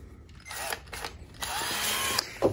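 A cordless screwdriver, newly bought for building film sets, is run in short bursts and then a longer steady whir, with motor noise stopping and starting close by.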